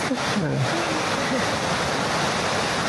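Water rushing at Yerköprü Waterfall makes a steady, loud broadband roar that fills the whole stretch, with a faint voice briefly at the start.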